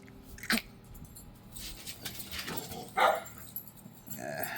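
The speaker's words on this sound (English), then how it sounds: "Coleman and Zoe, always barking." Two sharp barks from dogs, one early and one later, fairly close, over a quiet room with faint rustling.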